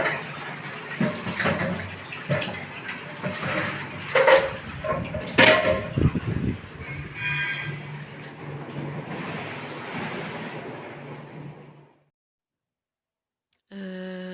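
Running water splashing and gushing during washing at a milk collection facility, loud and uneven for about twelve seconds, then a sudden silence before a brief burst of flow at the end.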